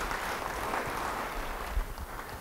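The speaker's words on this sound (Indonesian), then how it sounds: "Yang mau beri tepuk tangan bagi dia." Steady clapping from a church congregation, dense and even for a couple of seconds, with no voices.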